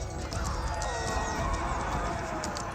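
Horses neigh and whinny amid hoof clip-clop during a medieval battle in Age of Empires 4, with English and Mongol cavalry fighting; a steady, busy game mix continues throughout.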